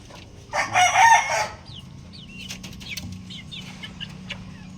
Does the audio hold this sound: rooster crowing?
yes